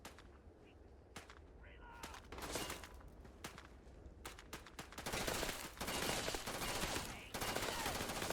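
Repeated bursts of gunfire from a gun in the video game Starfield, sharp shots and rapid volleys that grow denser and louder toward the end, over a low game rumble.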